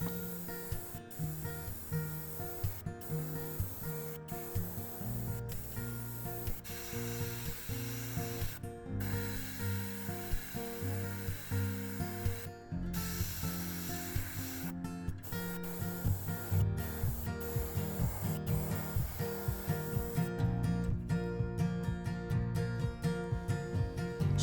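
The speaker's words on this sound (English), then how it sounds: "with a dark green, I began darkening up the top of the bait." An airbrush sprays dark green paint over the top of a carved wooden largemouth bass swimbait lure, a faint hiss broken by clicks and short pauses as the trigger is worked, with light handling rubs.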